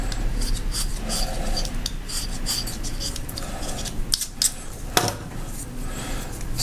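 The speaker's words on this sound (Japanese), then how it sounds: "では、木の部分ちょっと削っていきますね。" A hand blade shaves the wood of a drawing pencil near the base of the lead, giving a run of close, scratchy rasping strokes with a few sharper scrapes and clicks.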